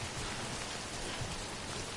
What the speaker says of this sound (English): just really rainy just to show you the effects of rain